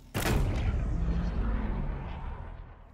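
A grenade launcher fires in Halo Infinite multiplayer, one heavy booming blast followed by a long rumbling decay that fades over a couple of seconds.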